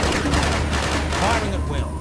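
Rapid bursts of gunfire from the 2006 PC strategy game War On Terror crackle loudly and densely throughout, with brief voice chatter mixed under the shots.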